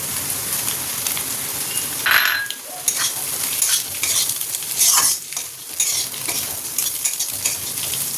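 Oats get stirred in a hot pan with black pepper, a scraping, rustling clatter of a spoon against the pan over a soft sizzle, fairly close, with a few louder scrapes and no voices.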